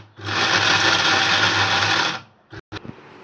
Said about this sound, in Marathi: तर आता हे आपण मिक्सरला फिरवून घेऊयात.